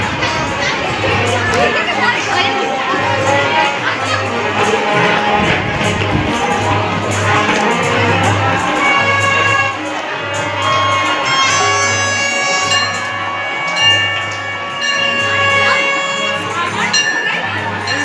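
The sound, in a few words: crowd at a temple on Shivratri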